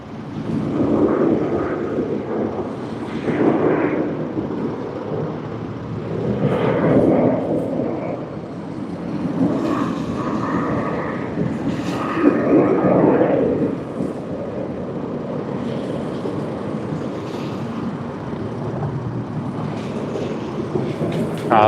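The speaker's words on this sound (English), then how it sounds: "777-300ER taxiing to runway 34L for its flight to Hong Kong." A Cathay Pacific Boeing 777-300ER taxis toward runway 34L at Sydney Airport, its engines giving a steady, broad rumble that swells and eases slightly over about twenty seconds, with some wind noise and no talk.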